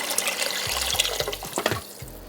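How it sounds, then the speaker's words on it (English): Tap water pours and splashes into a cooking pot for soup with braised collard greens, a steady close-up gurgling stream with short bursts and a drop-off near the end. "And I'm gonna also fill this up a little bit more with water."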